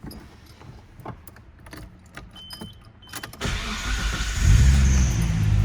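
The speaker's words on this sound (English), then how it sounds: "Engine fires right up." Keys rattle and a few clicks in a quiet space, then a Nissan R32 Skyline GTR engine cranks and catches on a cold start, settling into a loud, steady idle.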